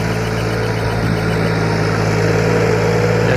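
Massey Ferguson MF 260 turbo tractor engine running during rice paddy preparation, a loud, steady, close diesel drone with a constant low hum and no break.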